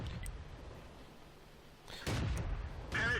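A tank cannon fires in the video game World of Tanks as two sharp, booming blasts about a second apart over a low engine rumble, the second followed by a brief metallic ring.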